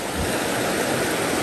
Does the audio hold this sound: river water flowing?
yes